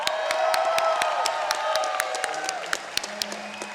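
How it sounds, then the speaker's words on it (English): A crowd at a Classic Tetris tournament applauds and cheers for a player, a dense wash of clapping with scattered whoops, while a voice talks over it. "Everybody, round of applause for DMJ."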